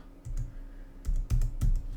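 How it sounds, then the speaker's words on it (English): Numbers are typed on a computer keyboard, a handful of quick, close key clicks in small clusters over a low background hum. "So let's type in 5 and then"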